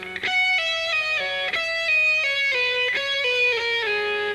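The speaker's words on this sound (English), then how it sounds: "this sound with a lot of pull-offs gives you a real legato sound like this" Smooth, flowing electric guitar legato lines played with pull-offs, notes sliding into one another, few picked attacks and many connected notes in a steady, bright run.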